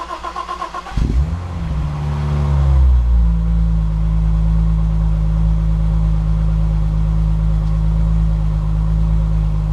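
A six-cylinder BMW E30 with a stainless sport exhaust cranks over with a brief starter whir, fires, flares up loudly, then settles into a deep, steady, close idle.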